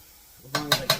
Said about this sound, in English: So then we're going to get that cooking and get them sauteed a little bit.